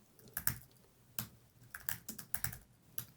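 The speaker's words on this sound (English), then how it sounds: "Now type in your name," Typing on a computer keyboard while filling in a macOS software registration form: irregular clusters of crisp, close keystrokes with short gaps between them, alone with no voices.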